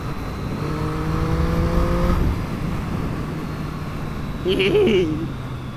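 A Triumph Street Triple RS motorcycle being ridden at national speed limit pace, a steady engine drone with rising and falling tonal whine, wind noise beneath and a brief brighter surge near the end.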